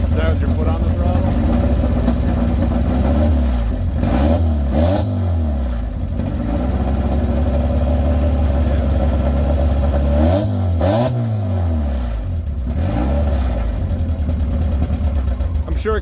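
A rough-running Subaru drift car engine, badly in need of a tune-up, is blipped on the throttle again and again, rising and falling in a loud, close rumble, with people talking over it.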